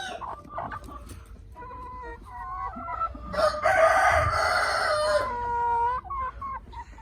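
Chickens cluck softly, then a rooster crows loudly and long nearby, followed by more clucking, on a desi egg-laying chicken farm.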